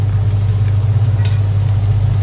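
Loud, steady sizzling from a hot wok as beaten eggs fry, over a constant low roaring hum, with no voices.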